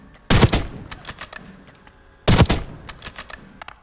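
Two quick bursts of rapid sniper rifle fire in a video game shooting range, each a dense cluster of sharp cracks about two seconds apart, loud and close with fading tails.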